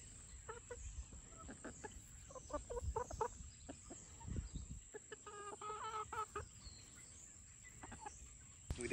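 Garden chickens cluck softly and repeatedly, scattered short calls from several birds at close range, fairly quiet, with a faint steady hiss in the background.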